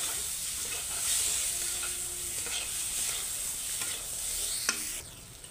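Vegetables with cumin powder fry in a pan with a steady hiss, while a utensil scrapes and stirs at intervals, with a sharp clink near the end.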